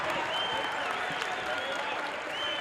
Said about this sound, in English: the crowd stands up and appreciates the effort